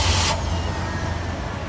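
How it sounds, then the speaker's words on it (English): Chloe's truck in the video game Life is Strange: Before the Storm starts up with a brief hissing burst, then settles into a steady, loud, low engine rumble that runs on alone. "hearing Chloe's truck finally come to life"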